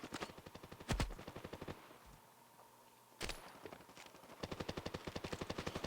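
Automatic gunfire in CS:GO Mobile, rapid evenly spaced shots in several bursts with a brief quiet gap in the middle, crisp and fairly close.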